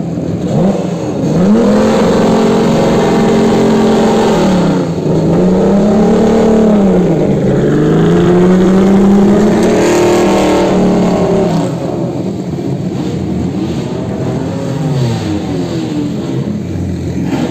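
A BMW M1 race car at the Magny-Cours circuit during a classic car event, its engine loud and close, revving repeatedly up and down through the gears over a continuous roar.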